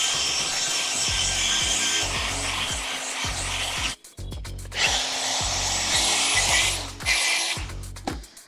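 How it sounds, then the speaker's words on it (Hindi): A Stanley SP137 polisher works granite with a steady whirring grind, the pitch dipping as the pad bears down, in repeated passes with a brief pause near the middle, close and loud. "ये सारी पॉलिशिंग जो मैं एक्टिविटी कर रहा हूँ ये 1700 से 2000 आरपीएम के बीच में मैंने मशीन को सेट किया है।"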